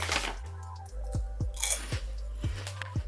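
Someone bites and chews a light, airy, crispy snack close to the mic, giving a string of sharp crunches at a fairly even pace of about two per second, with soft chewing between bites.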